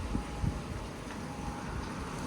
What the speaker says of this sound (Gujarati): જો તો બહાર એકદમ વાવાઝોડા જેવો પવન છે આજે.